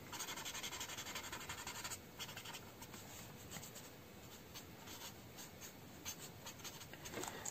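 Chisel-tip marker, a violet shade, drawn over paper for a night-city sketch, a steady close scratchy rubbing with repeated short strokes throughout.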